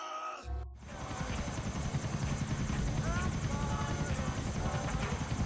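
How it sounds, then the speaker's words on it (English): A helicopter in the video game GTA IV whirs loud and steady after a brief quiet start, its rotor buzz and chop sustained throughout with the engine drone filling the scene. "Get to the chopper!"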